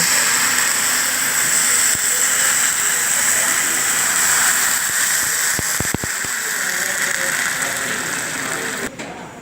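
Water poured into a pan of frying rice for egg biryani, a loud continuous steamy hiss that holds steady throughout, with a few brief knocks near the middle.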